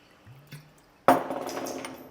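After a brief clink, water is poured in a sudden splashing rush into a bowl of cream of rice and protein powder, then continues as a steady liquid pour, close and fairly loud.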